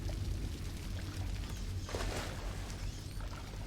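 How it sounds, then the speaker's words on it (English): Splash and churning water as a sleeping body is dropped into water in Dishonored, a continuous pouring wash with a brief heavier splash midway. "What if I throw the sleeping bodies in the water?"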